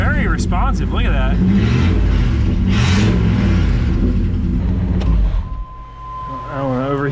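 A Camaro IROC-Z barn find, sitting since the 1990s, runs loud and close with a steady engine drone and a few sharp revs early. People talk over it, and it drops to a quieter idle near the end.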